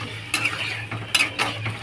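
Shredded lote fish (Bombay duck) is sautéed with splashes of spice water, with three bursts of spatula scraping and stirring over a soft, low sizzle.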